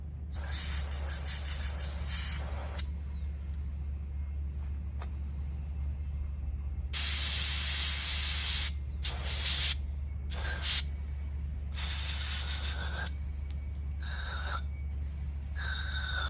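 Cleaner sprayed onto a car's MAF (mass airflow) sensor in repeated hissing aerosol bursts of varying length, fairly close and clear over a steady low background hum, with no talking.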